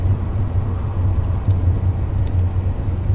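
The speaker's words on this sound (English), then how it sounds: "I'm gonna give it the full electric throttle" A steam locomotive in the Stormworks game running at full electric throttle gives a loud, continuous low rumble with a slight rhythmic pulsing throughout.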